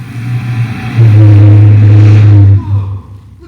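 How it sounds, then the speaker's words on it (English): A Corvette Stingray's engine revs up loudly and close, holding a strong steady roar for about a second and a half before it drops back to a lower idle rumble. "Look at that car. Corvette Stingray."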